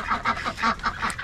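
Farmyard ducks give a quick series of nasal honking calls, about six short bursts in rapid rhythm, heard fairly close with nothing else around them.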